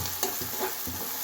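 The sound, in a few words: onions frying in oil with salt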